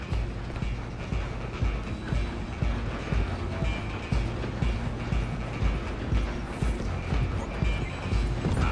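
Train rumble and galloping horse hooves from a chase in the video game Red Dead Redemption 2, a steady loud mechanical roar with rhythmic clip-clop throughout.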